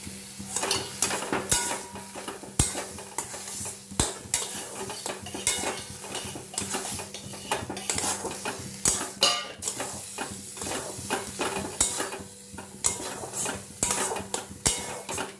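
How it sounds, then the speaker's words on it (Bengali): A soybean chop filling mixed with boiled potato is stirred nonstop with a metal spatula in a pan, giving repeated scraping and clanking strokes over a low sizzle, close and fairly loud, with no talking. "এবারে খুন্তি দিয়ে অনবরত নাড়তে হবে, মানে বসে না যায় নিচে।"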